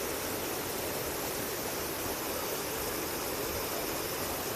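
Divochi Slozy waterfall in the village of Kozakivka pours in a steady, dense broadband rush of falling water, constant and fairly close, with no voices.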